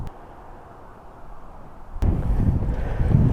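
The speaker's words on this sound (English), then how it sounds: "A little bit of wind kicking up right now." Wind gusts outdoors beside a garden where crocus shoots are coming up and trees sway. The low buffeting rumble is faint at first, then jumps louder and rougher partway through.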